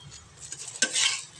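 A soybean paratha roasts on a ghee-greased griddle, a soft close sizzle broken by light clinks, then a sudden louder hiss as it settles onto the hot surface.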